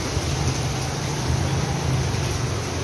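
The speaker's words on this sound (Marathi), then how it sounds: "हा पाऊस आजच पहिल्यांदा एवढा जास्त पडलेला आहे" Heavy monsoon rain pours down in Dapoli as a loud, dense, unbroken roar of hiss, steady from start to finish with no voices.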